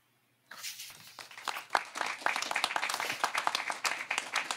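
Audience applause breaks out after a professor's lecture at a papal anniversary panel, starting abruptly from silence and building into sustained, dense clapping that carries on steadily to the end.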